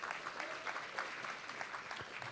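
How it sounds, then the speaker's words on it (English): Faint, steady applause from an audience at a Law Day ceremony, a continuous wash of distant clapping with no voices over it. "Give him another round of applause."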